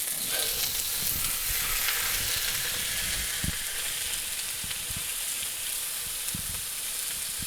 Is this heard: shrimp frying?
yes